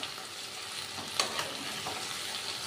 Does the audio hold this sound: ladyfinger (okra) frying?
yes